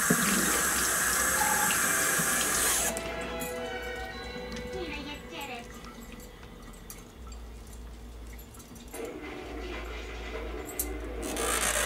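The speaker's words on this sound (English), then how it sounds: "And rinse that off so I know what I'm looking at" Water runs from a kitchen tap over something being rinsed in a sink while homemade butter is made, loud and steady for the first few seconds, then softer and continuing, with a voice faintly in the background.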